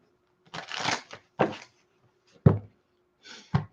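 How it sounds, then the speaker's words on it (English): Tarot cards shuffled up close in several short, crisp bursts of riffling and rustling, separated by brief pauses, with no talking. "I'm gonna like shuffle the cards some more"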